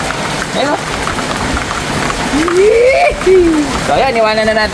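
Heavy rain pouring steadily outdoors while racing pigeons fly overhead, a dense hiss under someone talking close by, with whistles or bird calls rising over the downpour.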